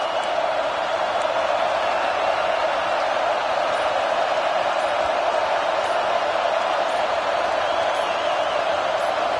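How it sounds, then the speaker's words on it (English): A football stadium crowd roars as one steady, dense wall of noise, loud and sustained throughout with no break, and no clear voices stand out. "with this place rocking, the crowd forces a false start"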